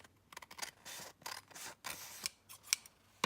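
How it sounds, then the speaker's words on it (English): Scissors trimming the crooked edge of a handmade paper ephemera folder, a close series of quick snipping and rasping cuts in irregular bursts, fairly quiet with no talking. "I'm just going to even that out with my scissors"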